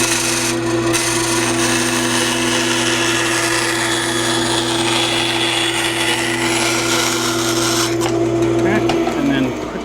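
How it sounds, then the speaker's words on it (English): A bandsaw slices off a wooden acoustic guitar brace in a shop, a steady close whine with a rasping cut sustained for about eight seconds before it winds down. "I'm just going to real quickly on the bandsaw slice that off."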